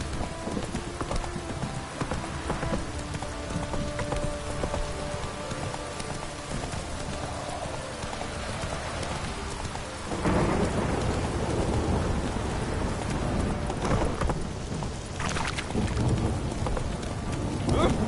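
Heavy rain pours down steadily in The Witcher 3 game, with constant dense hiss, rumbling thunder and hoof clops from a horse, the downpour growing louder partway through.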